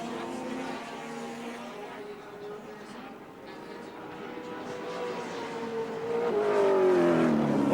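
Touring cars from the 1984 Australian Touring Car Championship round at Wanneroo race down the main straight, their engines droning and swelling louder toward the end beneath continuous race commentary.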